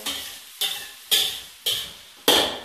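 Onions frying in a pot until light brown, heard as five evenly spaced scraping stirring strokes about half a second apart, each fading into a gentle sizzle.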